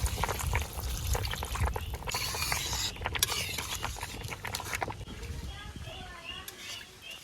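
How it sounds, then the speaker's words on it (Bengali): Water pours into a pan of cooked-down curry in a village kitchen, a steady splashing stream that fades to a gentle bubbling, with a voice talking over it. "আমি জল দিয়ে দিই, জল দিয়ে দিলাম"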